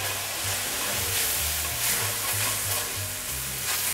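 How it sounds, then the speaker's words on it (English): Roux and light cream being stirred in a pan over heat, a steady close sizzle with soft scraping strokes throughout, no talk. "now we're stirring in some light cream"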